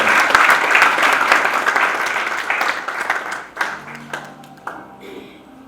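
A conference audience at the Dominion Summit 2020 claps for an arriving speaker, loud dense applause that thins into scattered individual claps and fades, with a few voices briefly audible near the end.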